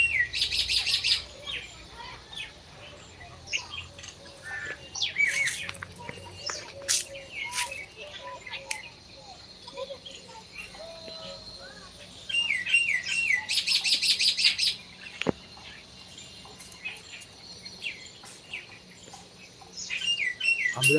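Bulbul birds chirp and tweet in a busy, continuous chorus, with bright repeated calls that swell louder in bursts near the start and again midway.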